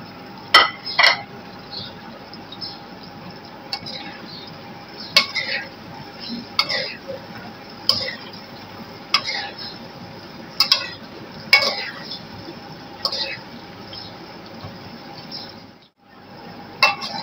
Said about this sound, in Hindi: 10 मिनट तक मज़ीद इन्होंने भूनना है ताकि प्याज भी जो है वो सॉफ्ट हो जाए